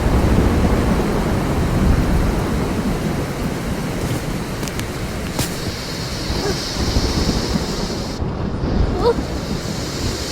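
A thunderstorm roars steadily with rushing rain and wind, a loud continuous wash of noise with deep rumbling that swells and fades for the whole stretch.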